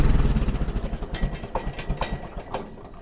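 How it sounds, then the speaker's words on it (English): An Oliver 550 tractor engine with a Marvel Schebler carburetor keeps dieseling after shutdown, with rapid, uneven chugging pulses that slow and fade into a few irregular knocks and clatters. "See the diesels when I shut it down."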